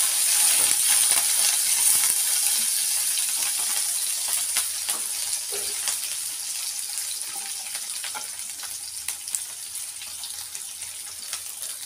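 Mustard seeds, garlic, a large onion and curry leaves fry in hot oil for a dry fish curry, giving a continuous close hiss with scattered faint pops and no talking.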